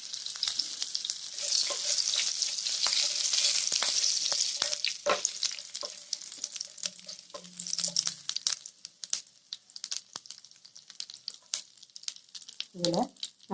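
Mustard seeds, cumin and curry leaves crackle and sizzle in hot tempering oil with turmeric, a dense frying hiss that thins into scattered pops and spits near the close.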